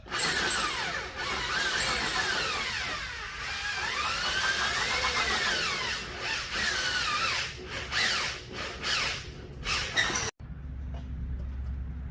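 A power drill runs almost continuously for about ten seconds, boring a hole with a dull bit for a rivet nut mount on a 2JZ-swapped BMW E30, its whine rising and falling under load before cutting off abruptly.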